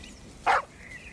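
Dog in a park giving one short, sharp bark near the middle, fairly close, over a quiet outdoor background.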